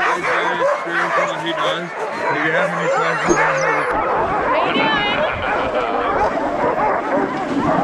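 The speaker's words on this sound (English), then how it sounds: "You're going to start a howl. Oh, it's long been started." A chorus of many sled dogs barking, yipping and howling at once, loud and continuous, with a person speaking briefly over the din, in Juneau, Alaska.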